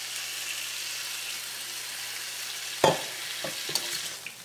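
Steady bubbling hiss of water boiling in a pot for aloo gobi masala, with a few clinks and scrapes of a utensil toward the end.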